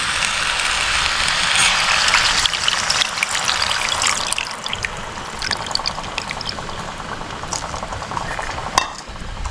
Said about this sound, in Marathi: हा संपूर्ण पाणी मी याच्यामध्ये ओतणार आहे